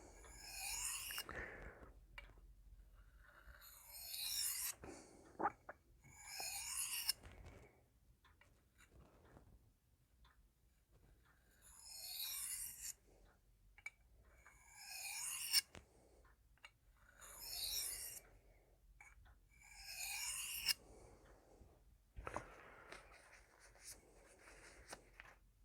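A 4V steel knife being stroked across a well broken-in sharpening plate with very light pressure, giving repeated soft rasping swipes in rhythmic bursts separated by short pauses, close and fairly quiet.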